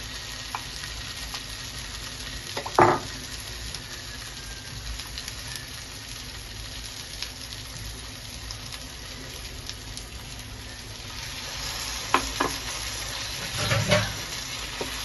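Cashew and poppy seed paste frying with mixed vegetables and paneer in a kadai, a long even sizzle broken by a few scraping stirs at the start and again near the end, no speech.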